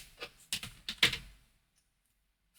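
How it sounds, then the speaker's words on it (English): Several quick, crisp snips of scissors cutting material for a craft project, close and sharp, with a brief pause between cuts before it falls quiet. "So I'm going to cut it here"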